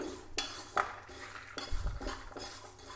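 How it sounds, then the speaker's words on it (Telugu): Urad dal being dry-roasted in a pan for a Telugu rolu pachadi, heard as a few scattered clinks and scrapes of stirring against the pan with light rustling in between, close and fairly quiet. "మనకి మినపప్పు బాగా దూరగా వేగాలి."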